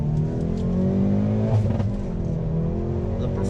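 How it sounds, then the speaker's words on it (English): 2020 Hyundai Veloster N accelerating hard from inside the cabin, a loud rising engine drone with a few sharp exhaust crackles and pops mid-pull. "Get the nice pops with the exhaust."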